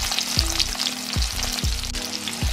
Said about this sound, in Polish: przewracam je na drugą. I obsmażam po drugiej stronie.